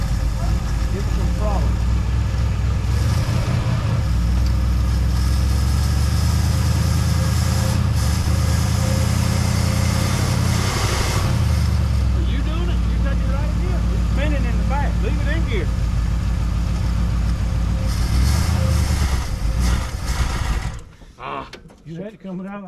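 A rat-infested 1963 Mercury Comet with a 260 V8, just started for the first time in over 25 years, runs loudly and steadily up close before cutting out near the end. Voices talk over the engine.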